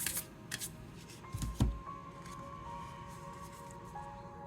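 Oracle cards are shuffled close by in a few quick papery riffles and soft slaps, followed by quieter handling, with a faint steady tone in the background.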